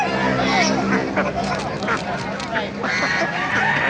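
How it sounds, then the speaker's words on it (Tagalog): Ducks quack among geese, turkeys and chickens at a busy live animal market in Baliuag, Bulacan, with repeated honking calls mixed into a steady babble of voices and crowd noise. "Dami rin mga itik, oh."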